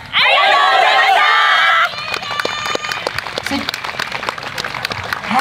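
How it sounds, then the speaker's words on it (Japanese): Applause and crowd noise at a YOSAKOI dance festival in Shizukuishi, a scattered clatter of clapping among chatter and shouts, following a loud amplified voice speaking at the start. "皆さんの温かい拍手ありがとうございます"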